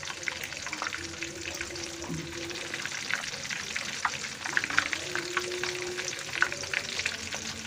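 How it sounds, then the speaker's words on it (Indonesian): Food fries in reused, slightly foamy oil that is not yet fully hot, making a steady soft crackle and bubbling throughout with occasional faint clicks and no talking. "minyak belum panas langsung dimasukkan seperti ini"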